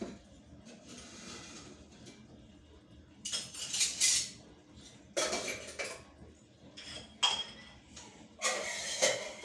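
Dishes and pots clatter and clink in short bursts as they are shifted around, with quiet gaps between the clusters of sound.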